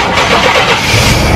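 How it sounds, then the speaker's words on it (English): A 1991 Chevrolet Astro van engine cranks and starts, settling into a loud, steady close-up rumble with no talking. "The engine started up."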